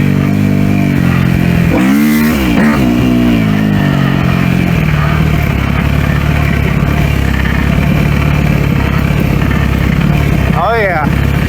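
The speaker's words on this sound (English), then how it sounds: "Bike definitely wants to be ridden harder" A Kawasaki KX250F dirt bike engine revs loudly up and down with a couple of sharp throttle blips, then settles into a steady running drone, with a voice talking over it.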